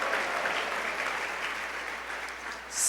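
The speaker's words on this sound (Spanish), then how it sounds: "Dele ese aplauso a Dios." A church congregation gives sustained, even applause to God, a dense wash of clapping that holds steady for a few seconds, then swells slightly at the close.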